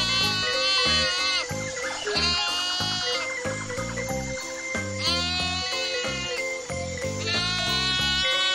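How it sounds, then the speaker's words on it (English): Farm sheep bleat loudly and close by in four wavering calls spread evenly through the stretch, set over rhythmic background music. "Domba, lamb,"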